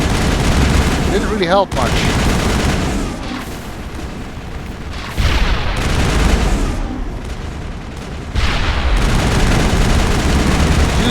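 Mass Effect combat brings dense, close gunfire bursts and heavy booms from grenade explosions, loud and chaotic, with a voice speaking briefly over the fighting.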